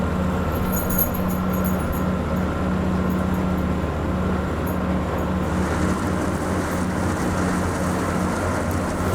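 A train in the farming video game Farming Simulator 15 rumbles steadily and continuously, with a low, even drone holding throughout and no voices.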